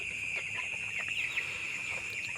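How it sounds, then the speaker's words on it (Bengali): A flock of broiler chickens feeds on a poultry farm, soft overlapping chirps and peeps in a steady dense chorus over the hum of the shed. "মুরগিগুলো দেখুন সুন্দরভাবে খাওয়া দাওয়া করছে।"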